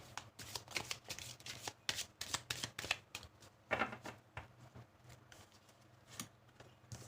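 A deck of oracle cards is shuffled and handled up close, with quick bursts of riffling and soft flicking, slapping card sounds in irregular rhythm.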